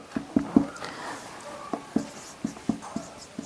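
Pen scratching out a math solution by hand on paper, a few sharp taps and short strokes in an irregular rhythm, close and fairly quiet, with no talking.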